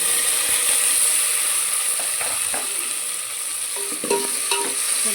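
Tomatoes sizzle and fry in a pan of pulao spices and bay leaves, with a spoon scraping and clattering as it stirs. The hiss is steady and close, and the stirring clicks rise near the end.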